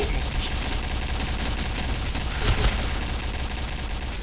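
Dense, continuous gunfire in the video game Point Blank, rapid overlapping shots over constant loud noise, and a brief heavier burst partway through.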